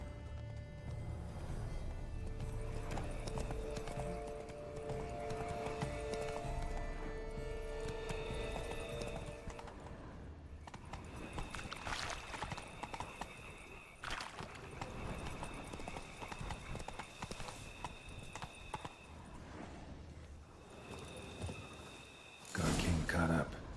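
Steady clip-clopping hooves run through the whole stretch under a background music bed in the video game The Witcher 3, with a louder burst near the very end.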